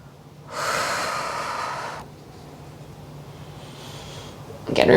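A deep, drawn-out breath during a core workout, a steady rushing exhale lasting about a second and a half, followed by a softer, fainter breath and a sharp close sound at the end.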